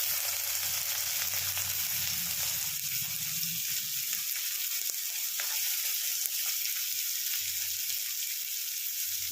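Onions sizzling in hot oil in a pan, a dense continuous frying hiss at fairly close range, with a faint low hum early on and no speech.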